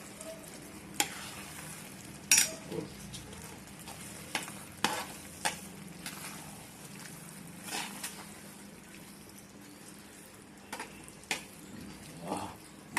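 Masala for a green-plantain roasted-coconut boti roast stirred in a pan, soft scraping strokes over a low background frying hiss, with sparse, spaced stirs and a few sharper knocks against the pan.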